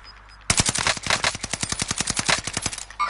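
Rapid automatic gunfire from a first-person shooter match on a new map, a loud sustained burst of evenly spaced shots lasting about two and a half seconds, with no talk over it.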